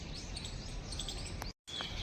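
Mixed small birds chirping and tweeting in a safari park aviary in Surat, steady overlapping calls close by with no voices, cut by a brief gap of silence.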